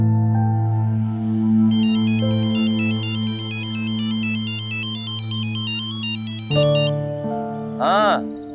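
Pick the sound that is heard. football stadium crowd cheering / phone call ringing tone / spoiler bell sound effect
phone call ringing tone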